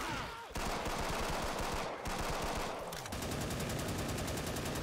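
Rapid bursts of video game gunfire, dense automatic volleys that run almost without pause, loud and close, with brief gaps between strings of shots.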